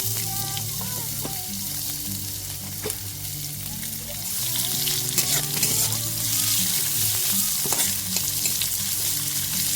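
Chopped carrots fry in a hot pan for a Bengali flattened-rice pulao, giving a steady close sizzle with occasional stirring scrapes that grows louder and busier midway, with no talking.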